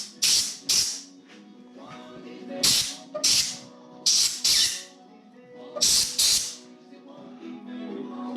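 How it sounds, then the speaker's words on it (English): Air compressor nozzle gun blowing short sharp bursts of air under a heated grip being slid onto a Polaris XLT snowmobile handlebar, several loud hissing blasts in irregular pairs. "If you have an air compressor and a little nozzle gun like this, just stick it under there. Give it some air while you're sliding it on."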